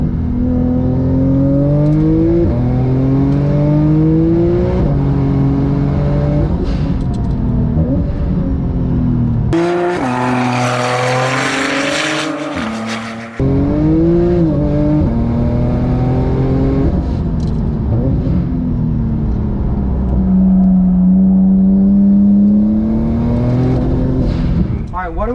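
A Porsche launches and accelerates hard on a time attack track, its engine rising through repeated climbing revs, briefly cutting out, then pulling again loud and close, with people talking over it.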